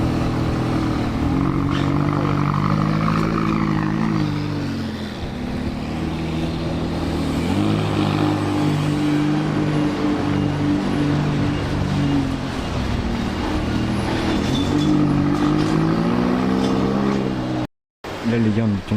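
A McLaren 570S drives through the streets of Monaco, its engine a loud, steady drone with slowly shifting pitch as it passes close by. Traffic noise surrounds it, and the sound cuts out briefly near the end.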